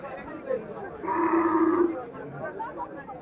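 Cattle at a rural village market for Qurbani animals give a loud, drawn-out moo lasting under a second amid crowd chatter and bargaining voices.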